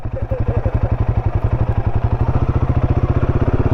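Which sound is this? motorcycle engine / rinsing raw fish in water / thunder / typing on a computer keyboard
motorcycle engine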